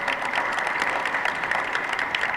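Steady, dense clapping from a Tamil political speech audience, loud and continuous for the whole short stretch with no voice above it.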